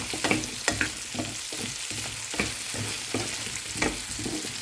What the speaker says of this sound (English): Add the pumpkins and continue on cooking for a few minutes.